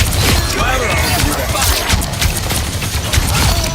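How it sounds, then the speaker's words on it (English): Fireworks in a video game going off as a dense, loud barrage of crackling bursts and booms that runs without pause the whole time, with no voices over it. "time for some fireworks."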